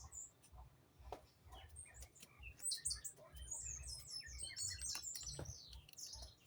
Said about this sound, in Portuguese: Muito passarinho, né?